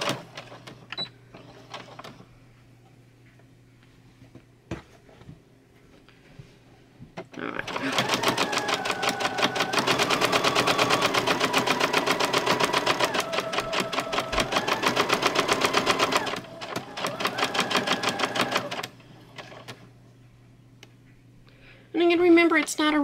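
A sewing machine runs back and forth over a towel to tack the stitches, a steady motorized whirr lasting several seconds amid quieter handling sounds and a brief final burst.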